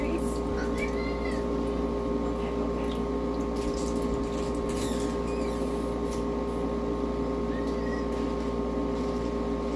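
A cat gives a few short, scattered meows over a constant low mechanical hum.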